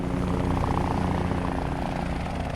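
Aircraft engine roars steadily and loudly with a propeller-like throb, a continuous droning during a film escape scene as the plane takes off.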